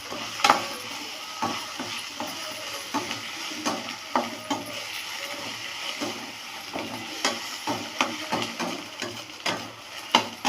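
Crushed turkey berries (sundakkai) roast in a pan while a spoon stirs them, giving irregular scraping and clinking strokes over a soft, steady sizzle, close by and without talk.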